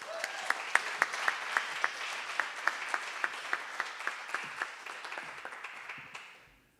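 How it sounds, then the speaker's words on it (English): Applause rings out at the Dog Iron Awards 2022 ceremony, dense clapping from the crowd punctuated by a steady run of loud individual claps, fading out at the end. "Let's give him a round of applause."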